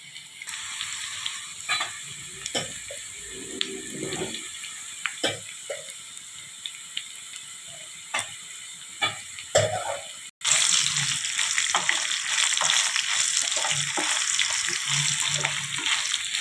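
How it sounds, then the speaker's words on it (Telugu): Bitter gourd pieces fry in a pan with a steady crackling sizzle close by, broken by clinks of stirring, and the sizzle grows louder after a brief cut. "చూసారండి అలా వేగుతున్నాయి కాకరకాయలు అనేది"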